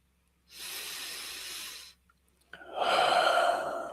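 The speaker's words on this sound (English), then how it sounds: "We breathe together, recognizing that we are breathing the breath of God." Slow, audible breathing from a group during a Sunday morning prayer, one long soft exhale followed by a louder breath after a short pause, close and unaccompanied by talk.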